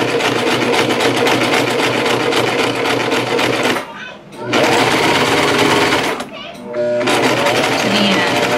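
A sewing machine stitching a fabric face mask runs loud and steady with a fast mechanical whir, stopping briefly twice before starting up again.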